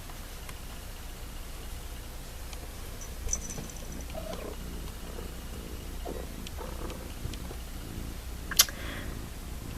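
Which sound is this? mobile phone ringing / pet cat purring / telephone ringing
pet cat purring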